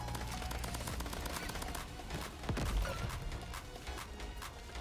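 Rapid bursts of gunfire crackle in the third-person shooter roguelike Crab Champions, dense and continuous with a louder boom near the middle, mixed with other game effects and no clear talk.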